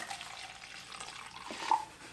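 Grout sealer pours from a freshly opened bottle into a cup, a quiet, soft trickle of liquid running steadily for a couple of seconds with a slight splash near the end.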